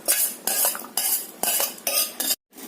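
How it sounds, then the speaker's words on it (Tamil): Mashed dal being stirred into boiling sambar with fenugreek leaves in a pot, loud rhythmic bursts of ladle scraping and clinking against metal, about five strokes, then a brief gap. "பருப்பை மேஷ் பண்ணி வச்சதையும் இதோட மிக்ஸ் பண்ணிடுறேன்."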